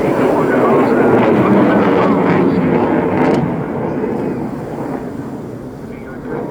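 At the English Riviera airshow, a Eurofighter Typhoon jet accelerates toward the crowd at about 400 mph and pulls up, producing a loud, broad roar that swells and then gradually fades as it climbs away.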